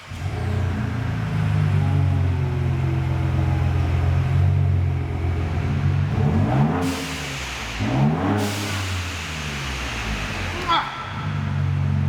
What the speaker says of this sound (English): Let's fire it up on a cold start and hear how it sounds